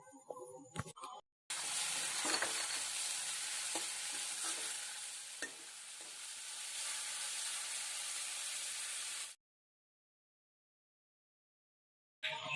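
Two chopped tomatoes are stirred into ginger and garlic frying in a pan for an Assamese bottle gourd curry: a loud, steady sizzle with scraping stirs throughout, ending abruptly in silence.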